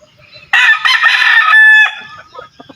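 A rooster crows loudly and close at a small backyard chicken farm, one long drawn-out call with hens clucking softly in the quiet moments before and after.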